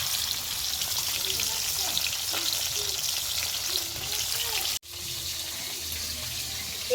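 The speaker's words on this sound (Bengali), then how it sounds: "আর এক এক করে সব মাছগুলোই দিয়ে দেবো, দিয়ে ভেজে নেব।" Whole fish, a Bengali bogo fish, sizzles in hot oil on a lit clay stove, a steady loud crackling hiss with a brief drop in the middle, no talking.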